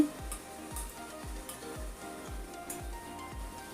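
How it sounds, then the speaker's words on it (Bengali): Dry red chillies roast in a dry pan over a low flame, giving a faint, steady crackle with soft, regular knocks from stirring about twice a second, heard alone. "এখন শুকনো কড়াইতে শুকনো লঙ্কা ভাজা করে নিচ্ছি লো ফ্লেমে"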